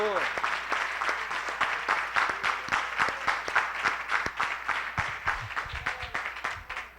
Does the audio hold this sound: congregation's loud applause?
yes